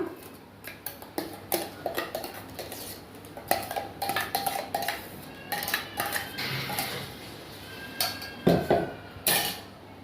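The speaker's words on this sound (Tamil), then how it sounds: "இந்த வெங்காய விழுதையும் இந்த தண்ணியிலே நம்ம மிக்ஸ் பண்ணிக்கிடலாம்" Repeated clinks and scrapes of a utensil against a metal pot as onion paste is stirred into boiling water, irregular and fairly close, with a faint bubbling underneath.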